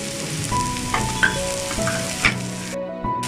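Chopped chapathi pieces sizzle and fry with masala in a pan for kothu chapathi, with steady frying hiss and a few sharp scraping stirs of a spatula, close and alone.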